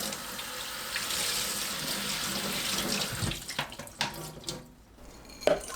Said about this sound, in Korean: 불린 쌀을 건져서 물에 가볍게 헹굽니다.